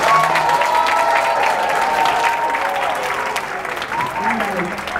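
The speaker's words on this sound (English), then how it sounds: "Let's have another cheer and clap for Rosen Publishing" An audience claps and cheers for Rosen Publishing at a Houston Public Library event, dense applause starting loud and easing slightly, with a few whoops and voices mixed in.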